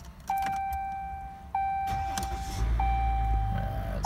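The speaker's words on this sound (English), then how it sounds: "Let me just turn on the vehicle here." A 2015 Ram 1500 EcoDiesel truck is started from inside the cab: dashboard chimes ring out twice, then the diesel engine turns over and settles into a low, steady rumble close by.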